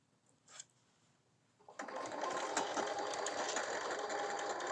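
A sewing machine starts after a brief click and runs steadily, with a fast, even mechanical whir close by while stitching a quilted sunglasses case.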